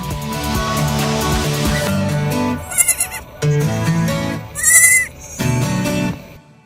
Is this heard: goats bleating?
yes